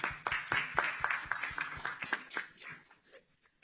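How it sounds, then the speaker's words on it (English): Scattered clapping from a small audience at an academic panel on solar radiation, several distinct claps at first, then thinning out and fading to quiet. "And of course, we will applause for Julia as well."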